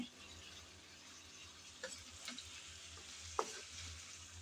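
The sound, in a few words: stir-frying drumsticks and tomatoes in a pan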